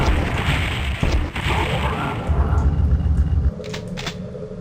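Rocket explosions hitting barriers in Doom 64 Retribution gameplay, a few heavy booms and crashing impacts over low rumble, ending in a quieter hum.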